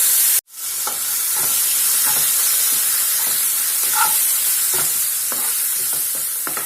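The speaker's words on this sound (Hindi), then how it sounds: "एबे हमें अदा रसुण पेस्ट को पकेबा" Ginger garlic paste frying in a hot pan for cauliflower potato curry, a loud steady sizzle with faint spoon stirring scrapes, close up and continuous after a brief silence at the start.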